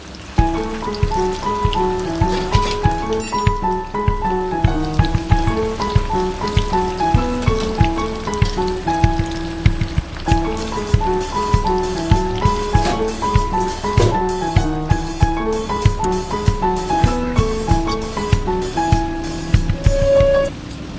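Soaked, cooled chana dal frying in hot oil, giving a dense, steady crackle of fine pops throughout, with melodic background music playing over it.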